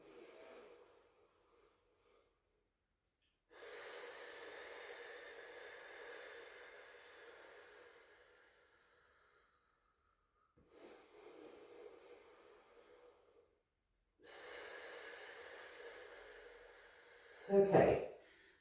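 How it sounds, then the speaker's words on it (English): Deep, steady breaths drawn in and out during a core-engagement exercise, several long breathy passes separated by quiet gaps, close and fairly soft, with a sharper burst near the end. "Take a couple breaths in."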